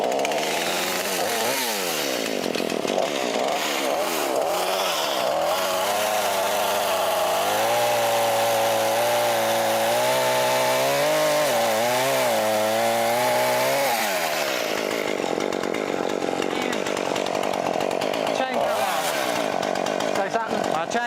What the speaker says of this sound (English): Gonna chainsaw that stump down.